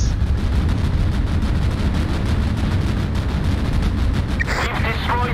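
Warship naval guns fire together in the Pacific war game Battlestations Pacific, making a dense, continuous roar of heavy booms and rumbling, with a voice briefly heard near the end.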